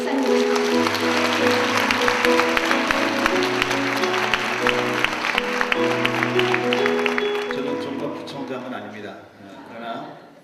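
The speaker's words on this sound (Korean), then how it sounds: "큰 박수로 목사님을" A church audience gives loud, sustained applause to welcome the pastor over an ongoing musical backing, and the clapping fades toward the end.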